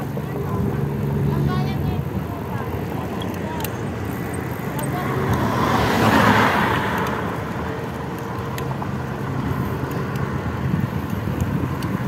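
Road traffic rolls along a bypass road in San Rafael, Bulacan, with a steady wash of engine and tire noise and wind. A vehicle swells louder as it passes near the middle.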